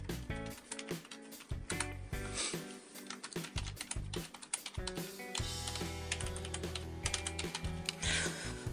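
Fingers type on a Logitech MK235 computer keyboard, a rapid, uneven stream of crisp key clicks and clacks, close and continuous throughout, with no voices.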